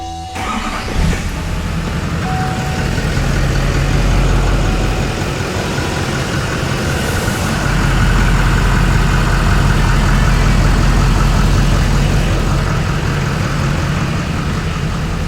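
A Chevy 6.6L Duramax diesel engine cranks and starts after an oil change, then settles into a steady, loud, close idle that rumbles on without a break.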